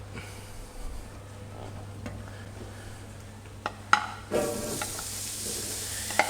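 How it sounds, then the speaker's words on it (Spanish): Chopped onion goes into a hot paella pan for a pork loin and cured-meat rice dish, first quiet stirring and scraping, then a sudden loud, steady sizzle with a few clinks of a utensil against the pan. "Vuelvo a encender la paella y vamos con la cebolla."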